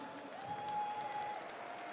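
Applause from a Munich crowd at a German darts Grand Prix after a first-round match, steady, dense clapping that fills the space at moderate level, with a faint sustained tone running through it.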